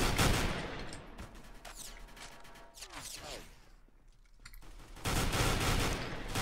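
FAMAS rifle gunfire in the Roblox shooter Counter Blox, loud rapid bursts that open the clip and return in a dense stretch at the end, with scattered shots and game noise between and no talk.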